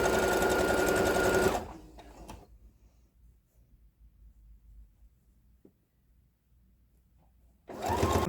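A sewing machine stitches lace onto a T-shirt in a loud, close run that stops abruptly. A quiet stretch with faint handling follows, then the rapid stitching starts again near the end.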